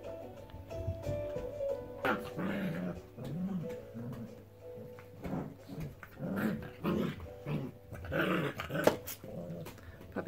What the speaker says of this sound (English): They like to chew on the rope and on the antler part.